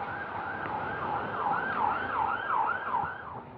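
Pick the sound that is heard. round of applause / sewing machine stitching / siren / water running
siren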